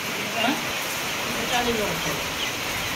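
Heavy rain falling onto a house with tin roof sheets and soaked walls, a dense steady hiss of rainfall with a voice speaking over it.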